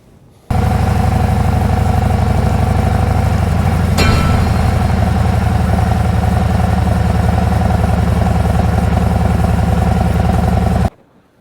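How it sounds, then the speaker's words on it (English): Harley-Davidson Road King Special motorcycle engine runs loud and close at a steady idle, a deep throbbing rumble that starts abruptly and holds evenly for about ten seconds before cutting off, with one brief click partway through and no talking. "it's a beautifully smooth, powerful engine"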